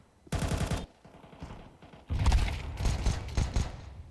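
Pistol fire on the Counter-Strike Vertigo map from the B ramp: a rapid volley of sharp shots rings out, then after a brief gap comes a denser exchange of overlapping shots, moderately close.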